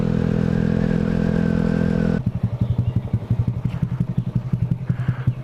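A stunted-out Honda Grom motorcycle on a highway first drones loudly at a steady high pitch, then drops into a lower, pulsing engine rhythm of rapid throbbing beats, close and loud with no talking.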